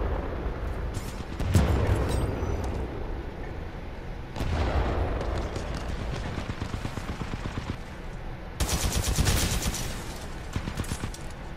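Rapid bursts of SMR rifle fire in a shooter video game crack out loudly in several clustered volleys, with rolling echoes and battle noise between them.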